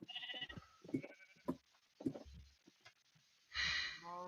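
Sheep in the Minecraft video game bleat several times in a row, loud and close, with short pauses between calls and a longer, brighter bleat near the end.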